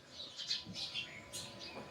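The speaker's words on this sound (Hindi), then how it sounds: "चिड़ियों की आवाज आती है" Small birds chirp and tweet in quick, faint, scattered bursts around a quiet outdoor seating area during a spiritual class, with no traffic and soft background noise.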